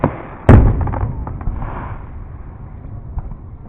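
Fourth of July fireworks exploding outdoors: one loud, sharp burst followed by a fading rumble and scattered fainter pops and crackles in the distance.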